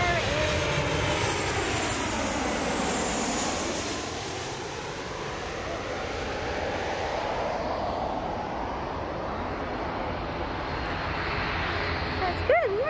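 An airplane takes off at a plane-spotting spot, its loud jet engine roar sweeping steadily across the whole stretch with a rising and falling tone as it passes, with no talk audible.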